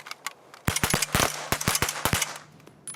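Rifle shots from soldiers on a military commando training range, a rapid volley of about ten loud, close cracks in quick uneven succession, each with a short ringing tail, with no talk over them.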